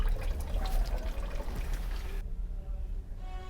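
Clothes being washed by hand in water, splashing and sloshing close by for a couple of seconds before the sound cuts to quieter dripping, with a voice talking over it.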